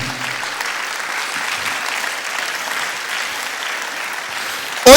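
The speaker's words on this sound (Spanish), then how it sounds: "Denle aplauso al Señor, amén." Church congregation applauding steadily in a large room, a dense even wash of clapping sustained throughout without talk over it.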